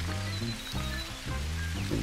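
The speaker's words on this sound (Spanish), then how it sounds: "Sigue lloviendo." Steady rain falls in theHunter: Call of the Wild as a continuous patter under a low, humming background, with faint tonal sounds drifting over it.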